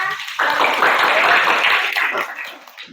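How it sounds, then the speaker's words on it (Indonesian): A classroom of students claps together after a group presentation, a dense burst of applause that starts abruptly, holds for about two seconds and then tapers off. "tepuk tangan untuk kita semua"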